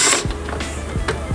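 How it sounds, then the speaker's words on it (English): A T30 Torx screw being tightened on a new headlight for a BMW 328i F30 gives a few sharp, spaced mechanical clicks and scrapes, close and fairly loud with no talking. "tightening and screwing in the T30 for the new headlight"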